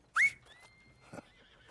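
A horse in Red Dead Redemption 2 gives a single short, bright whinny, then a faint thud and stillness with no talk.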